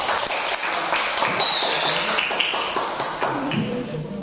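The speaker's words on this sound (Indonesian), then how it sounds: "Tepuk tangan untuk kelompok." Dense applause from a classroom full of students, steady clapping throughout with a few voices faintly mixed in.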